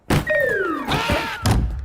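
Someone bangs on a door in a Bollywood comedy scene: a heavy thump opens it, a swooping tonal effect follows, then a second loud thud.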